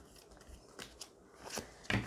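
Tarot cards are shuffled by hand for a reading, giving a few quiet, short papery riffles and snaps, close and alone without speech.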